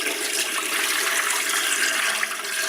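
Tap water runs into a pot of rinsed rice in a kitchen, a loud, continuous splashing rush that holds steady with no talk.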